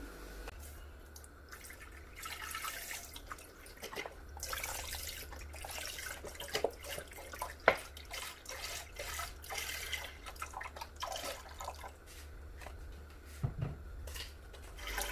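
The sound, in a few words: milk poured into pot for rice kheer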